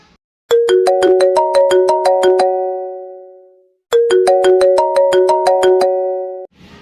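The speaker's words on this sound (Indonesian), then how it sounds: "Kunaonnya si Ibnu tarang angkat telepon" A phone ringtone plays a bright, chiming melodic phrase of rapid repeated notes, loud and clear. It pauses for about a second, then the same phrase repeats.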